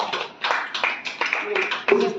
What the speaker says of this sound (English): Please clap him and congratulate him.